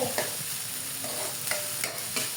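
Tofu sautéing in a pan, a steady sizzle with scraping stir strokes from a spatula recurring every half second or so, close and fairly loud, with no talking.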